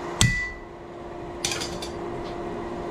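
A random tool strikes a throwing axe in place of a hammer, giving two sharp metallic clanks about a second apart, the first louder, over a faint steady hum.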